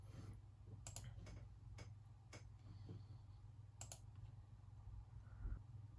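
Keys tapped on a computer keyboard while entering a trademark search online, heard as scattered quiet clicks in short irregular bursts over a steady low hum, with no talking.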